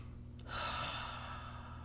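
A person in a calm, reflective moment takes a slow, deep breath, one audible inhale that swells and then trails into a long, airy exhale, close and alone with no talking.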